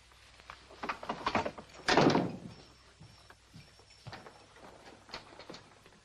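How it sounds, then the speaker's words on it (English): A door thunks shut and is locked in an Old West setting, with one heavy closing impact standing out amid smaller knocks and faint shuffling nearby. "Lock the door and don't let anybody else in."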